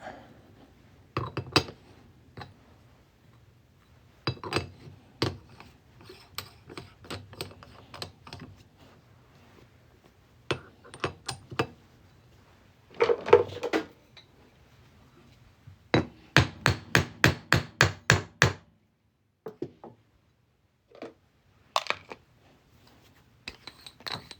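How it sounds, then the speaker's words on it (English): A 2001 New York state quarter being struck with a hammer and punch to open a hole for a coin ring: close, sharp metallic taps in irregular clusters of rapid blows with short pauses between, and no talking. "First thing we got to do is punch a hole in it."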